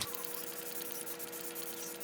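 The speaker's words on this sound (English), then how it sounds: "So I go in with setting spray" A steady, continuous hiss of Morphe Luminous setting spray being sprayed onto a face, close and loud, holding evenly throughout with a faint background hum.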